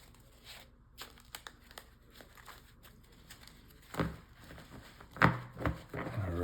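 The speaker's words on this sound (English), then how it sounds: "Let's just shuffle this up a little and get some cards ready." Playing cards being shuffled up close, soft scattered crinkling and flicking with a few louder riffling bursts near the end, fairly quiet overall.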